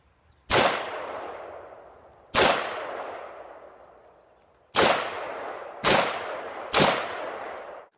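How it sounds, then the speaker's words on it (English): A 300 Blackout AR-15 pistol fires five loud, sharp shots outdoors, each followed by a long ringing decay, spaced one to two seconds apart rather than in a rapid burst, with no talking. "Full auto test with 300 Blackout, 5 round burst."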